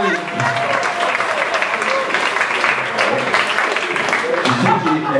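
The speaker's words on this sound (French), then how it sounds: "donc on peut applaudir Edouard" The audience at a comedy show at the Rockerill applauds a man named Edouard, producing steady, dense clapping throughout. Faint voices and murmurs come through beneath the clapping.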